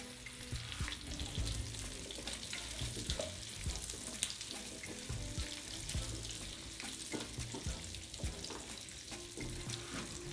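Onions and capsicum frying steadily over a slow flame for chicken manchurian, a dense continuous sizzle with occasional stirring clatter, close and even throughout.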